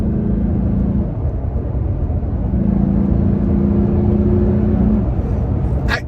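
A Toyota Tacoma engine cruises at about 3,000 RPM in third gear, giving a loud, steady drone with a sustained low hum that dips briefly and returns, heard from inside the cab without talk.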